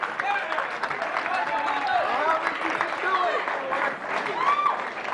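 A poker tournament audience at the World Poker Tour finals claps and cheers after a big pot, a lively, sustained crowd roar carried under ongoing commentary from the broadcast announcers.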